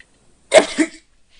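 A single sharp sneeze bursts out close by, loud and abrupt, lasting under half a second amid silence.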